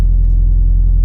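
A Subaru STI with a stock-location turbo cruises on wastegate pressure on a base flex-fuel map, a steady low droning engine rumble heard from inside the car, even and unbroken.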